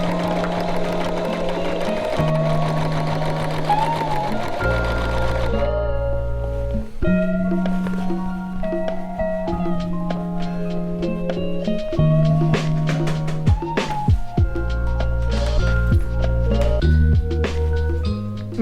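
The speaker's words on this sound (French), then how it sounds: "Donc je vais faire une couture comme ça, replier et refaire une couture en haut." A sewing machine stitches a seam on clothing, running steadily with a mechanical whir that shifts in pitch and speed through several short stop-and-start passes, loud and close.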